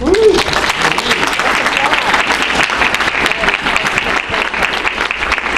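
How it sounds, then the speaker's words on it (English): Warm welcoming applause from a concert audience for a musician at a Tibetan music showcase: dense, loud, sustained clapping throughout, with a brief voice at the very start. "Please, let us give a warm applause of welcome for Ron Esposito"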